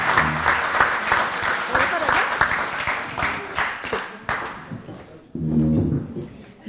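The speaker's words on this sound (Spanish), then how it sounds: "pues un gran aplauso" An audience applauds after a tourism lecture, dense clapping that thins and fades toward the end, with a voice briefly speaking near the close.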